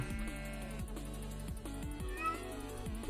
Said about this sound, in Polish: kotek.